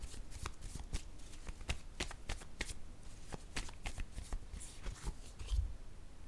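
A deck of cards is shuffled and cards are drawn, giving quick, crisp riffling flicks and soft slaps that repeat close by and faintly.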